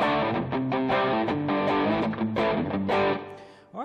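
Electric guitar power chords through an overdrive pedal with the gain maxed, a run of loud sustained distorted chords changing every half second or so before ringing out and stopping, heard alone.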